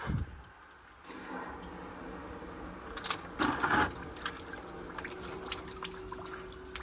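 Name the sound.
water pouring out of a leaking boiler system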